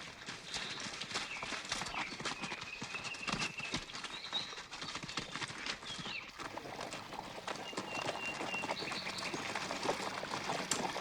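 Horse hooves clip-clop at a steady walking pace on hard ground, moderately near and continuous, with faint outdoor ambience and birds in the background.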